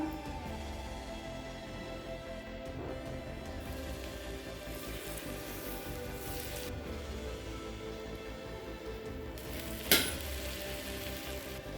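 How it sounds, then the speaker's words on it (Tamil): Bread toasts in butter on a hot pan for a bakery-style masala sandwich, giving a close, steady crackling sizzle throughout, with one sharp clatter near the end. "இப்போ ப்ரெட்டை டோஸ்ட் பண்ணிக்கலாங்க"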